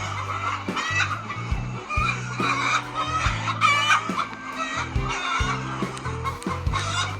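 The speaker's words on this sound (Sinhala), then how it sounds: "මේ ෆාම් එකේ ගොඩාක්ම ඉන්නේ බිත්තර දාන වයසේ ඉන්න කුකුල්ලු" Many laying hens at a poultry farm cluck and cackle together in a busy, overlapping chorus, close and continuous, sounding like a crowded flock with no one speaking.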